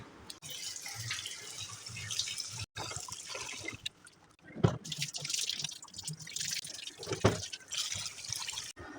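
Cut potato pieces washed in water at a kitchen sink, with a tap running and splashing in an uneven, continuous wash and a few louder sloshes, close by and alone.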